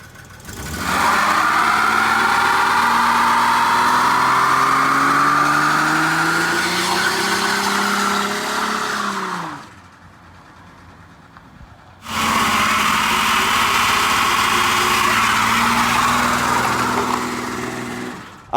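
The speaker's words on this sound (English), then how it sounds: "So we did a couple burnouts" A $300 SN95 Ford Mustang budget project does a burnout, its engine roaring loud and sustained with rising revs and tire noise, cutting out briefly to a low idle before a second long, loud burst.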